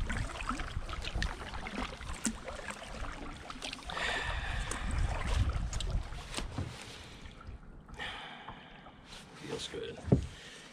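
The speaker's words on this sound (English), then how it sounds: "If I'm just paddling left and right, it seems to track pretty good." Paddle strokes dip and splash beside a Native Falcon 11 fishing kayak on open water, a steady rhythm of close swishes and drips with wind in the background and people talking.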